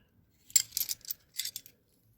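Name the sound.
Craftsman wrenches clinking as they are handled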